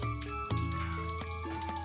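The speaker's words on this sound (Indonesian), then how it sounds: "Setelah itu kita gongso dulu lur ya. Nah, kita gongso," Onion, shallots and chili stir-frying in a pan, a steady close sizzle and crackle with a couple of brief stirring knocks, no one talking.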